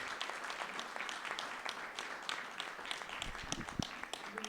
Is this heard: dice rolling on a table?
no